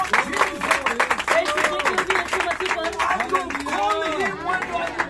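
A congregation at a Christian gathering in Nepal clapping along, rhythmic hand claps under loud singing or chanting voices and crowd noise.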